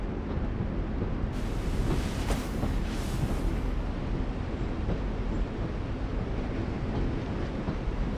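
A train from The Walking Dead video game rumbles in a steady low roar, with a brief hissing, airy burst partway through, and no talk over it.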